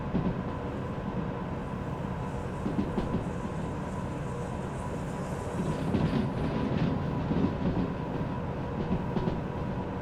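A train rolling along rails in the railway simulator game Derail Valley, giving a continuous, dense rumble and clatter that holds steady and swells slightly partway through, with no talking.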